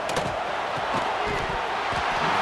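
A stadium crowd at a college football game between the Gators and the Wolverines in EA Sports College Football 26 roars in a steady, loud wash of cheering with thuds underneath.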